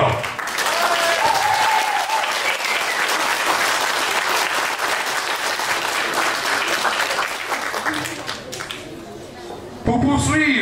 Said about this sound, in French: Je vous demande d'applaudir notre